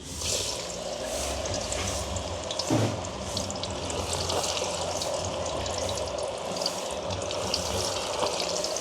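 Cassava slices frying in a pot of hot oil, a steady dense sizzle and bubbling that runs continuously and fairly close, with no voices over it.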